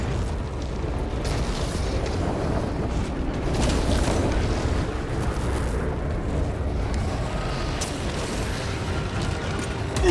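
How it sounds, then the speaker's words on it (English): Helldrake pyrogenic bombardment in Warhammer 40k: Space Marine 2, a sustained roaring wall of rumbling fiery blasts that swells slightly midway and holds steady and loud throughout. "Pyrogenic bombardment incoming!"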